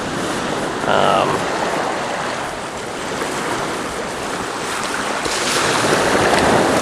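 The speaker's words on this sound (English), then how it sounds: "they're not that strong, they're just medium-sized waves, I guess" Medium-sized ocean waves wash in at Lanikai Beach, a continuous broadband surf rush with wind buffeting the microphone, swelling louder toward the end, and a faint brief sound near the start.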